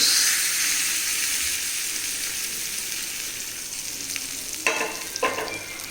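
Steady oily sizzling from a hot pan of tempering, with a couple of sharp bursts of crackle near the end as wet tomato chutney hits the oil.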